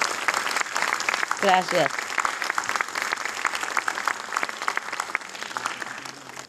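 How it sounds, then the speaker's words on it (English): An audience at a book launch for the Spanish edition of a book applauds loudly and steadily throughout, with a single brief spoken word near the start. "let's give another a resounding applause"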